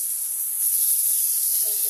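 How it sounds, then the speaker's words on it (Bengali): Potato and paneer fry in a pan, giving a steady, loud, bright hiss with little variation. "এবার আমার এটা মোটামুটি আলু পনিরটা ভাজা ভাজা হয়ে গেছে"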